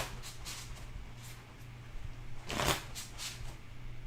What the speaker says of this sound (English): All right, I'm going to keep shuffling.